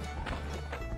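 Horse hooves clip-clopping in the video game Survivalcraft 2, a few quick soft strikes in a brief, quiet burst.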